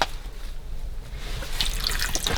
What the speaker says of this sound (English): I'm gonna put a bit of water.